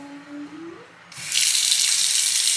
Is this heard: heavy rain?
no